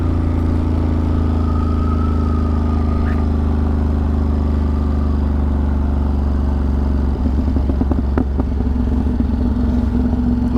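A Ducati Monster motorcycle engine idles and gargles on its own, a loud, steady, lumpy throb that turns rougher and more uneven for the last few seconds.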